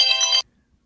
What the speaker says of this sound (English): Once again, sorry about that phone ringing.